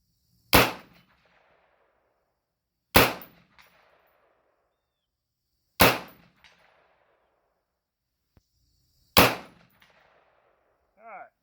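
Keltec RDB rifle fired outdoors at a distant target until the magazine runs dry: four sharp, loud single shots spaced a few seconds apart, each with a brief echoing tail, ending with a faint metallic click.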